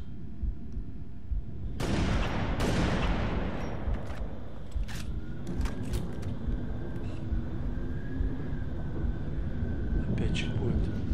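Sharp gunfire bursts crack out in the video game Halo: Reach, a couple of loud shots followed by scattered smaller pops over a rumbling background, with a voice talking throughout.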